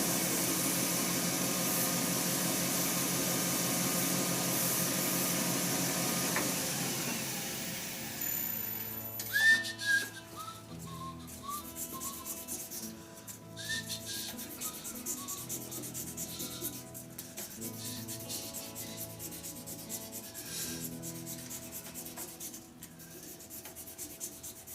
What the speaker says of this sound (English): Beat the monotony of the noise of the lathe.